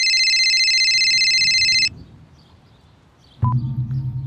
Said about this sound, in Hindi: तभी मेरा फोन बजा।